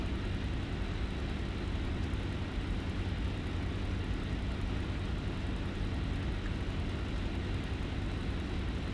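Propeller airplane engine droning in War Thunder, a steady loud broadband roar held evenly throughout with no break, like a World War II fighter in flight.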